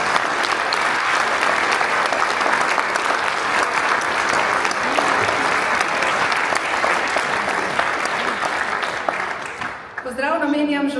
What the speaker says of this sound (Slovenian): Zato močan uvodni aplavz, lepo prosim za vse zbrane na odru